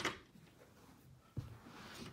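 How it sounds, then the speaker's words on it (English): A door swings open near a magnetic door stop being fitted, with a sharp thud-like knock of the latch or contact partway through, then soft handling noise; quiet room, no talk. "now I'm going to open the door"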